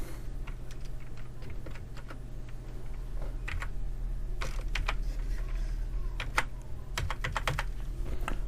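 Fingers tap out a password on a computer keyboard in a quiet room, irregular clusters of close, crisp key clicks over a steady low electrical hum, with no talking.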